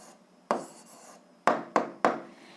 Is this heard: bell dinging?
no